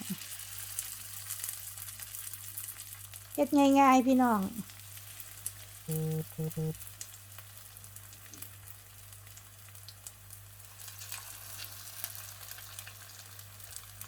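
Steady sizzling of mushrooms frying in hot oil in a pot, crackling continuously throughout, with a person speaking briefly over it.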